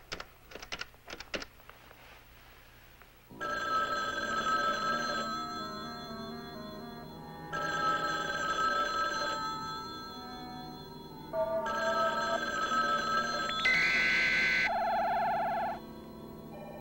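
Ringback tone of an outgoing telephone call, several long electronic rings spaced by pauses after a few quick clicks of dialing, followed by a higher operator-style tone, heard close and clear without talk.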